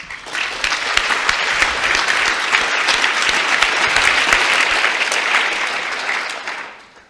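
An audience at the 2012 RIBA President's Medals ceremony welcomes RIBA President Angela Brady with sustained, dense applause that holds steady for several seconds and then tapers off.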